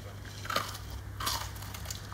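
Two quick crunchy bites into a frozen mousse dessert, close and fairly quiet, each a short crisp crackle about a second apart over a faint hum.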